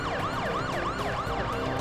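A police car siren in the Parasite Eve video game wails in fast, rising and falling sweeps, loud and continuous over a low engine rumble.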